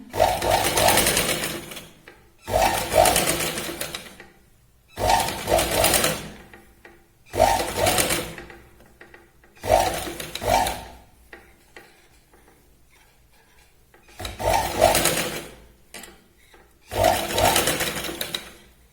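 Sewing machine running double stitching on a katori blouse in seven distinct bursts of rapid whirring, each a couple of seconds long, separated by short pauses.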